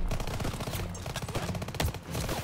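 Dense gunfire from Call of Duty: WWII, several weapons firing at once in rapid overlapping bursts with a steady loud barrage and no talking.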